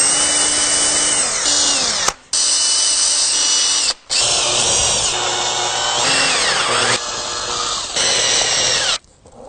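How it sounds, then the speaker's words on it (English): A power drill bores through the wooden handle of a samurai sword in loud, whining bursts, with the motor pitch rising and falling and two brief pauses before it winds down. "And I'm going to take my drill. We're going to drill through."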